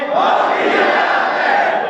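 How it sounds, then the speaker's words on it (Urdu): A large crowd at a religious conference in Kohat roars a slogan back in unison, one loud sustained shout of many voices lasting under two seconds. "اب ہاتھ کھڑا کر کے نعرے کا جواب دو"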